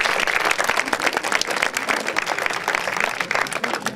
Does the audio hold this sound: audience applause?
yes